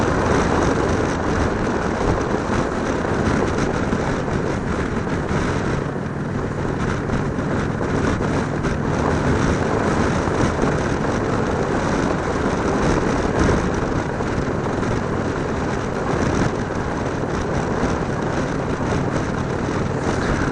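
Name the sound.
2017 Indian Roadmaster motorcycle riding in high gear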